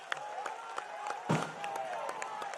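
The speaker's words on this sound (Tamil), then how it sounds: "எல்லாரும் எந்திரிச்சு நின்று கரகோஷத்தோடு அவரை வரவேற்று அவருக்கு ஆதரவளிக்க வேண்டும்" Scattered applause from a crowd at a political rally welcoming a new state leader in Tamil Nadu, separate claps audible with a brief louder burst midway, fairly quiet and mixed with crowd murmur.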